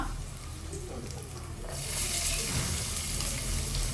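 Onions are tossed into hot oil that already holds whole spices, producing a steady close sizzle that swells partway through and keeps hissing evenly.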